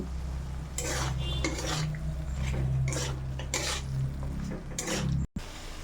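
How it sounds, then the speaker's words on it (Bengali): Potatoes and peas stirred into spiced oil in a pan for a Bengali-style aloo paneer curry, with repeated scraping and clinking strokes over a steady low sizzle, close and continuous. "এর মধ্যে এবার আমি আলুগুলো দিয়ে দেবো মটরগুলোও দিয়ে দেব দিয়ে আবার ভালো করে কষিয়ে নেব"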